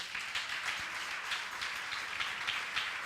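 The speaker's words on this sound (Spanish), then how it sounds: "Le damos un aplauso al Señor" A church congregation claps together, a faint, fairly distant round of applause with slightly pulsing rhythm throughout.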